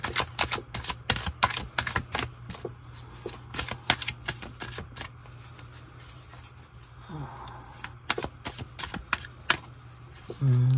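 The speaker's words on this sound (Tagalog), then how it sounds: "palasahin muna po natin to para ma-make sure po natin na okay po ang ating baraha" Rapid crisp riffling and snapping of tarot cards being shuffled, repeated in quick bursts with short pauses, close and fairly loud, with no talking.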